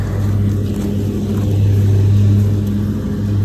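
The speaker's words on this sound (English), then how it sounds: "Sorry about that lawnmower." A lawnmower runs nearby, giving off a loud, steady, low engine drone that holds without a break throughout the short stretch, with no voices over it.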